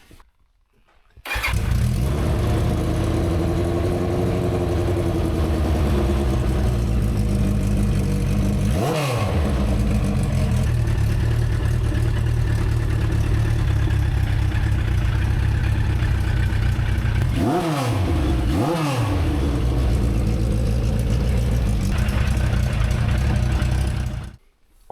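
An antique Honda Gold Wing motorcycle with a fully rebuilt engine idles steadily and close by for about twenty seconds, its even drone broken by a few brief throttle blips that rise and fall.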